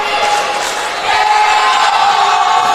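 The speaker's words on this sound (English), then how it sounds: "And the crowd's letting her know what she just did." A loud basketball crowd, including a student section, roars and jeers steadily after a player's airball at a college game between Bluefield State and Livingstone, with broad shouting filling the whole stretch.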